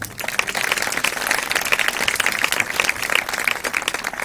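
A church congregation claps together during a Punjabi sermon, a loud, busy burst of many hands that carries on steadily with no voices over it.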